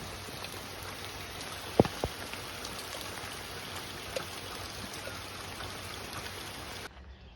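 Steady rain falls on a walking trail, a continuous even hiss of drops with a couple of sharper close knocks, no voices.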